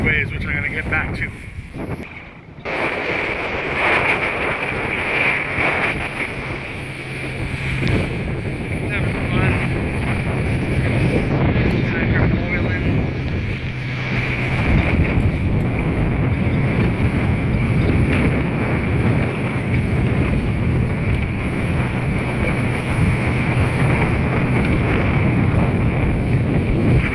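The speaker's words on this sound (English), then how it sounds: "I'm skipping over these waves" Small boat skipping over wind-whipped waves off Newport, Rhode Island, the hull slapping and engine droning under constant loud wind buffeting on the microphone, with occasional talk mixed in.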